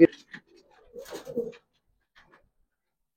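A pair of pigeons gives soft, low coos in short bursts, near but faint, with a voice speaking briefly among them before the sound fades to near silence.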